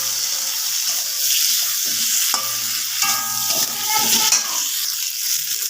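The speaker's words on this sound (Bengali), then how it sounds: "চিংড়ি মাছ কিন্তু খুব ভালো করে ভাজলে ভালো লাগে না, আমি অল্প একটুখানি ভেজে নেবো," Prawns lightly frying in a wok give a dense, continuous close sizzle, broken by a few clattering flips and stirs partway through, with no speech over it.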